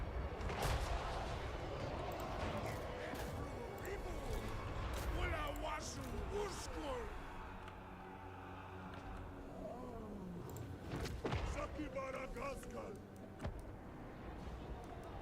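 Artillery fire from crane gunners in the Total War Warhammer game, Disciples of Hashut battle: repeated booming shots and impacts amid dense battle noise, with someone talking over it.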